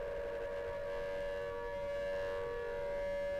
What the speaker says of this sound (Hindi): चेतावनी वाला सायरन बजा चंडीगढ़ में